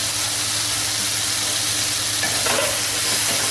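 Mushrooms for biryani sizzling steadily in a hot pan as they are stirred and sautéed, a continuous close frying hiss with faint scraping, no talk.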